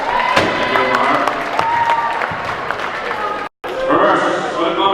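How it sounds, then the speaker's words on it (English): Spectators in a gym at a girls' high school basketball tournament give a steady round of applause with scattered whoops, mixed with an announcer's voice over the PA and a brief dropout before the clapping resumes. "Round of applause for Mark, please."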